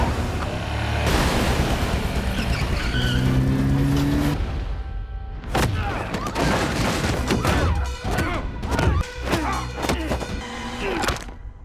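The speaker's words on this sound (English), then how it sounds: "he took a motorbike on the side of the road and tried to escape, but he continued to be chased by the special agents" A movie chase scene with a motorbike fleeing and cars skidding roars loudly with engine revs, squealing tires, crashes and sharp impacts, dense at first, then a string of bursts and hits.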